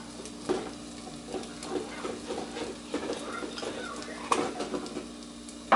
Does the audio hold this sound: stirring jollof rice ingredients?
yes